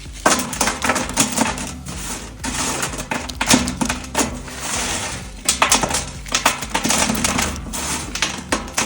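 Rhythmic mechanical clatter and chopping from a STvega meat-slicing machine cutting moist chicken and pork for chips, repeated bursts with soft wet impacts, close and steady.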